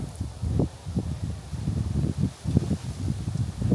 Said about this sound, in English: Oh, the wind is coming. It's going to blow away our cheese and cracker table.